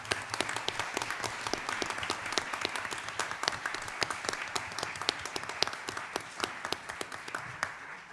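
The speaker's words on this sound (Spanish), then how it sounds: "Y yo pediría un aplauso para ellos." An audience at an Ibero-American urban history congress applauds at length, a dense, even clatter of many hands clapping in a hall, sustained and moderately loud with no talk over it.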